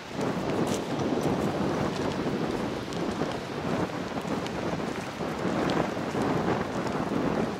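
Strong wind blows steadily at a beach hotel in Marsa Alam, Egypt, a loud continuous roar and buffeting against the microphone with no pauses.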